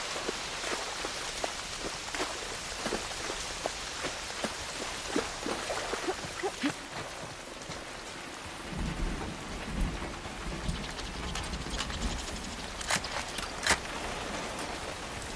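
Heavy rain pours steadily in a thunderstorm on an island in The Last of Us Part II, with rolling thunder building in a deep rumble partway through and sharp cracks near the end.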